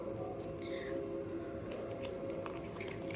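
A cardboard tarot deck box being opened by hand, with soft papery scraping and rustling, fairly close, steady and low over a faint hum, no talk.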